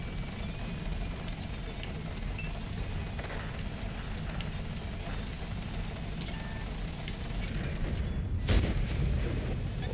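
Tank cannon fire in World of Tanks, one loud booming shot standing out near the end over a continuous low engine rumble and battle ambience, with no voices.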